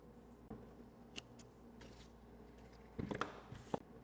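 Scissors snip the trimmed yarn end of a small crocheted amigurumi piece, a few sharp close clicks over a quiet rustle of handling, with no voices.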